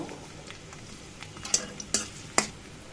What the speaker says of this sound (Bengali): এখন আমি কিছুটা পেঁয়াজ কুচি দিয়ে দেব। পেঁয়াজটা একটু ভেজে নেব।